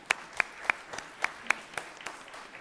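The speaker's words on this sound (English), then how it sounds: "let's just give her an applause as well." Sparse applause at a juvenile justice meeting: about eight distinct, evenly spaced claps, crisp and fairly close, with little crowd sound around them.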